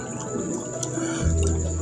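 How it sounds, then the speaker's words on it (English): Hot water is poured into a bowl of sautéed beans, a short liquid splash and trickle that deepens into a fuller, lower filling sound near the end. "Add some hot water"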